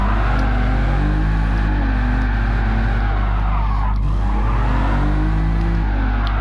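A car drifts sideways under handbrake in the GT Sport racing game, its engine droning loud and steady while tyres squeal with a long, sweeping skid that dips and rises again.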